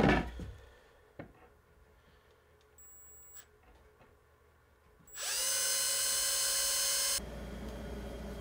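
A few knocks and clicks, then a power drill fastening wooden boards whines loudly for about two seconds before dropping into a lower, rougher spin.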